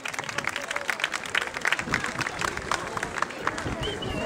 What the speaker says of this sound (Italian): Facciamo un applauso agli amici.